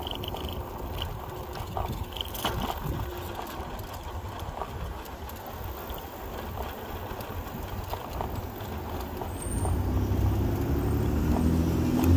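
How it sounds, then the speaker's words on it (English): A car rolls along behind e-bike riders on a road, a steady engine and tyre rumble that grows louder and closer toward the end, with wind noise throughout and no talking. "Car behind us."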